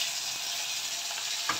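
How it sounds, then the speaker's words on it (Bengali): Fish frying in hot oil in a pan in a home kitchen, a steady, close hiss and crackle of sizzling with a faint clink near the end and no talking. "মাছটা ভাজা করে নিই"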